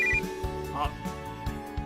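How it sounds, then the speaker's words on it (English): A phone rings in the video game Major/Minor, a repeating electronic ringtone pulsing at a steady rhythm over soft, layered game music. "Before I can do anything, Rook's phone rings."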